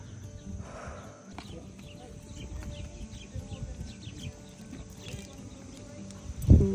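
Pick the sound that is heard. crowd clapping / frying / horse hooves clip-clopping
horse hooves clip-clopping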